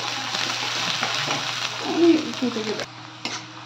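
Onions frying lightly in oil in a wok, a steady soft sizzle with a few stirring scrapes and brief vocal sounds, close and moderate in level.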